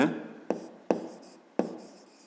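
A pen scratches out a fifth-grade math solution in four short strokes, each starting with a sharp tap and trailing off, close and clear with no talking.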